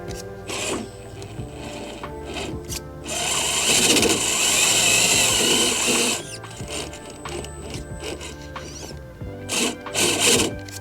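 An Axial SCX10 III RC rock crawler kit with universal-joint axles and Nitto Grappler tires grinds and whirs over rocks, its motor and drivetrain droning and rattling with vibration, swelling louder in the middle.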